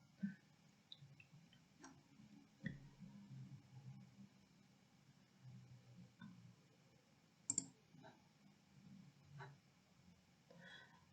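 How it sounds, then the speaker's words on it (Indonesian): A computer mouse clicking softly in a quiet room, a few faint scattered clicks, one sharper double click in the middle, with low background hum. "Ibu double klik."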